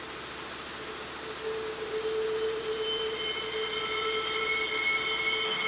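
An automatic vacuum cleaner on a weaving loom in a textile mill, sucking up fiber dust, gives a steady, loud whooshing drone with faint whining tones, growing slightly stronger after the first second and running continuously throughout.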